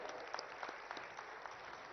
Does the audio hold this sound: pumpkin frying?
no